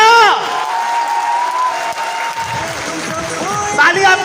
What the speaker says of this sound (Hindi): और जोरदार वाली तालियां।